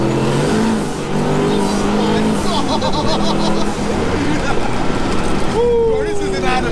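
A 1300 bhp LS-swapped turbocharged Nissan 280Z on drag radials accelerates hard in third gear, its engine roaring loud and close with a rising pitch sweep near the end, while people talk over it.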